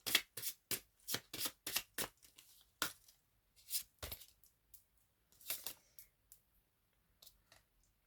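Tarot cards are shuffled and drawn by hand in a quiet room, giving a run of quick crisp riffles and slaps that thin out into scattered soft flicks and card snaps.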